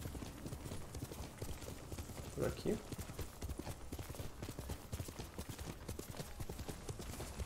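A horse gallops through the world of the Ghost of Tsushima video game, rapid rhythmic hoofbeats pounding steadily throughout, with a voice speaking briefly over the clip-clop.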